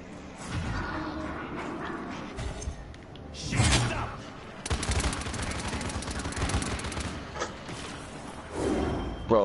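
Sniper gunfire in the video game Paladins: sharp, loud shots punch through a busy mix of battle noise, with a heavy burst near the middle and more impacts scattered through the fight.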